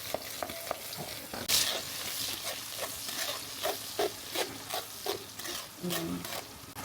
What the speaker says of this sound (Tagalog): Pag-isa na muna natin sa mga sibuyas bawang natin.